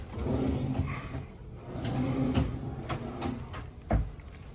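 Deep bedside drawers in a Las Vegas Bellagio hotel room slide open and shut a few times, giving soft scrapes and muffled thumps. One thump near the end is sharper, and the room is quiet with no talking.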